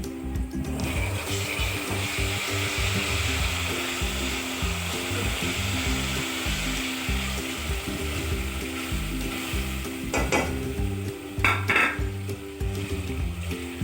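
Onions and ginger garlic paste fry in a pan for homemade biryani, a steady close sizzle running the whole time with scraping stir strokes and a few sharper clatters near the end; no talking.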